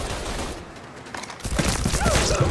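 Rapid gunfire from a shootout in the video game Mafia III, dense bursts of shots that build louder toward the end, with no talk over them.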